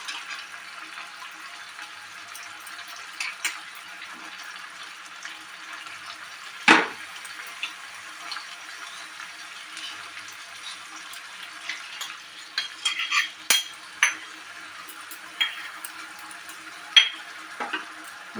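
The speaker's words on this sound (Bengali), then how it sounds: "এটাকে আমি জলে গুলে এইভাবে দিয়ে দেব।" Spice paste of cumin, coriander, black pepper and garam masala mixed in water, poured into a pan for Bengali snakehead fish kalia, with a quiet sizzle, a sharp splash near the start, then scattered stirring clinks and scrapes.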